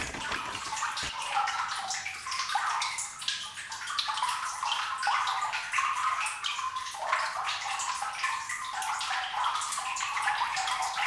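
Water fills a room in a flooded coal mine, a steady close sloshing and trickling wash that runs on without a break and has no voices over it.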